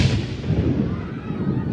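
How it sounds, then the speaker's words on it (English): A bomb explosion rendered as a sustained low rumbling roar, dense and steady throughout with no clear onset, heard at moderate loudness. "There's an explosion."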